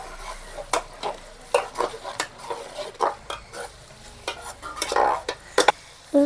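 Murrel (snakehead) fish pieces fry in oil with ginger paste in a pan, with a soft sizzle under intermittent scraping and clinking from a spatula stirring them.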